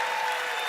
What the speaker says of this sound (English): A round of applause for Meredith,